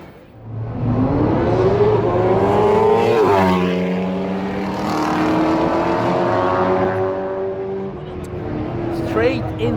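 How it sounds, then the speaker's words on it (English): A V8-swapped BMW E46 race car roars past close by, its engine note rising and shifting through gears in a sustained loud pass before trailing off near the end. "one more car that does deserve some attention, a V8 swapped E46"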